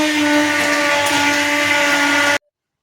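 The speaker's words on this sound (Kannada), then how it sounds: "ಇದನ್ನು ನಾನಿಲ್ಲಿ ತೊಗರಿಬೇಳೆನ ಬ್ಲೆಂಡ್ ಮಾಡ್ಕೊತಾ ಇದ್ದೀನಿ" A blender motor whirs steadily at high speed, loud and close, grinding cooked toor dal for about two seconds before cutting off abruptly.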